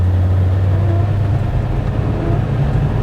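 A tuned Land Rover Defender Td5 90 with a Falcon hybrid turbo pulls along a road, its diesel engine droning loud and close with a steady low rumble and slight rises in pitch, held back from full throttle.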